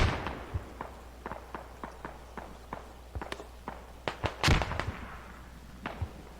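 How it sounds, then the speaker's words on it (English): Distant enemy mortar fire during a multiplayer video game match, heard as sparse, faint thumps and cracks spaced irregularly over a low steady hum, with a few louder, closer bursts near the end. "West enemy mortar."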